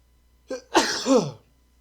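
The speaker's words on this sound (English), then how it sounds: "I gotta sneeze." A single close sneeze from a man with a cold and stuffed nose, a short sharp intake followed by a burst, alone in a quiet room.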